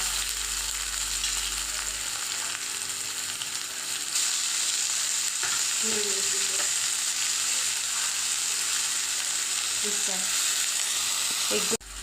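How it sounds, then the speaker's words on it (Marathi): Cumin seeds, fennel and onion frying in oil for a chutney, stirred now and then, producing a steady even sizzle with a faint tonal hum and a few scraping stirs near the end. "आता आपण याच्यामध्ये तेल टाकणार आहोत। जिरं टाकणार आहेत आपण, बडीशेप, कांदा"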